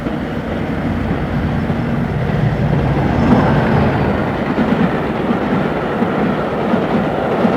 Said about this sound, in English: and I take the bleeding train